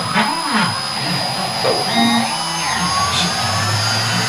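A CNC PCB router starts its program, giving a steady motor whine and whir with rising and falling tones as the head moves, continuous and fairly close.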